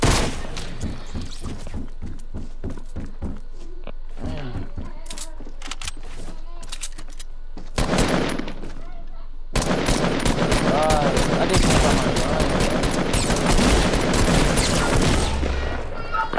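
Rapid bursts of automatic gunfire in Fortnite, loud and close, with dense volleys broken by brief pauses and a heavier sustained barrage toward the end.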